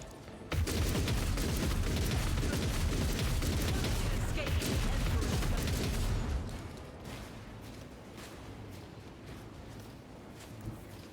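Rapid bursts of gunfire fill a Rogue Trader battle, loud and dense for about six seconds before dropping to a quieter rumble with a lone pop near the end, while a voice talks over it.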